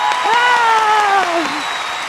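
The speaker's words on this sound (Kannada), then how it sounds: "ಬರೀ ಜೋರಾಗಿ ಚಪ್ಪಾಳೆ ಬರೀ" A studio audience at a television comedy show claps in a dense, steady burst while a voice carries over the applause.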